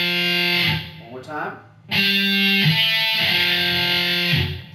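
Distorted electric guitar playing a riff, loud sustained overdriven notes in a repeating pattern with a brief spoken break partway through, close and dominant.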